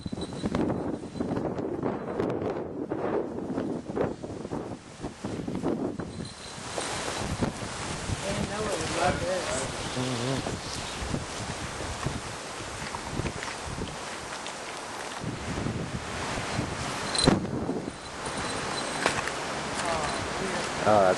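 Strong gusting wind buffets an outdoor microphone during a falconry flight, a steady roaring rush that dominates throughout, with speech faintly under it.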